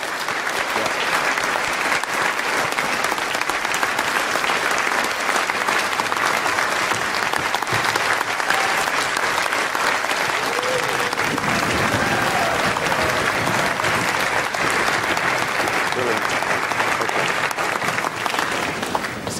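Sustained, dense applause fills a concert hall after a concerto in a film scene, steady and loud throughout with a faint murmur of crowd beneath.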